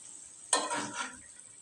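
An ayir fish flipped in a frying pan of hot oil: one quick clatter and scrape of the turn, followed by a brief rise of sizzling that fades, set against a faint steady hiss.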